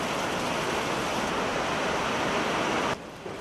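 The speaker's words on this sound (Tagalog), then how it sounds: "Matataas na alon sa dagat" High, rough sea waves churned up by Typhoon Karding make a loud, steady broadband roar, like surf and wind noise. The roar holds without pause and drops away abruptly near the end.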